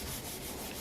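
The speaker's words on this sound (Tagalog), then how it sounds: "Ngayon, nagwe-wet sanding ako, nagliliha tayo." Wet sanding of a motorcycle gas tank's top coat with 800 grit sandpaper by hand, a soft continuous rasping rub with slight back-and-forth swells, close and alone.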